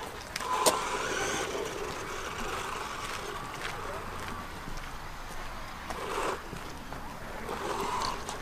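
A Funtek MT12 radio-controlled car runs on an outdoor track, its small motor a thin, continuous whine at a moderate distance, with a few brief clicks and bumps along the way.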